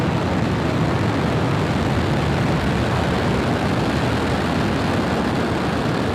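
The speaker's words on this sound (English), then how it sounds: "Ignition. Engines full power and liftoff." SpaceX Falcon 9 rocket engines roar at liftoff, a dense, unbroken broadband rumble that stays loud and steady throughout with no talk.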